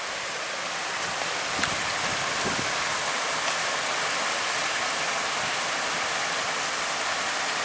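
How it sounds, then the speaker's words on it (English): Steady broadband rush of water flowing in a stream near its headwaters in Sans Souci County Park, continuous and fairly loud with no breaks or voices. "that's a pretty decent flow of water"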